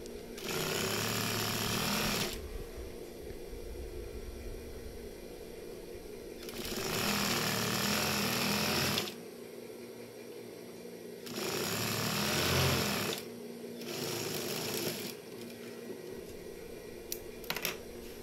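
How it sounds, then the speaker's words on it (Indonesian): A sewing machine stitches the button placket of a baju koko in three separate bursts of rapid, even whirring, with quieter pauses and small handling clicks between them. "Selanjutnya kita jahit dulu di bagian tempat kancingnya sini dulu ya"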